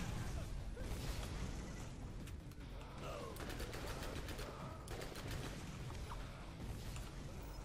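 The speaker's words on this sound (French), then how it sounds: "Je ne vois plus rien avec les explosions de roquettes." Borderlands cooperative shooter gameplay fills the scene with dense rapid gunfire and booming rocket explosions, a continuous loud barrage of crackling bursts.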